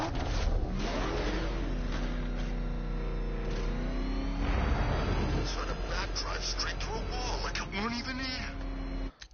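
Car engine driving in the Batman Arkham Knight video game: a steady engine drone with shifting pitch as the vehicle revs and accelerates, running continuously under other game audio and what sounds like talk.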